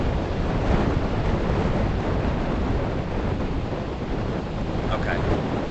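Wind and ocean surf at Indian Harbour Beach, Florida: a constant loud roar of breaking waves mixed with heavy wind buffeting the microphone, steady throughout with no clear voices.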